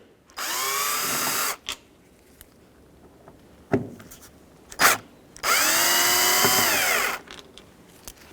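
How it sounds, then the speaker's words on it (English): A cordless power drill spins out Phillips screws from the rear exterior door latch of a 2007-2013 Acura MDX, with two sustained whirring bursts and short clicks and knocks between them, close up. "We're going to remove these 3 Phillips screws here."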